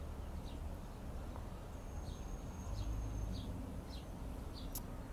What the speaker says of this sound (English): you can probably hear the birds above my head chirping